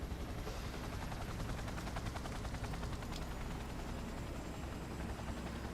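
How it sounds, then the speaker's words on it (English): A helicopter in the video game Cyberpunk 2077 makes a steady, rapid rotor thump over a constant engine whine. It sounds close and fairly quiet, with no speech. "Don't reminisce, just get into the helicopter."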